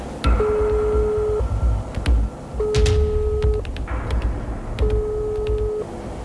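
An Indonesian phone call to a regional police office goes unanswered, with three long ringback tones in a steady repeating rhythm and a few sharp clicks between them, loud and close with no voices.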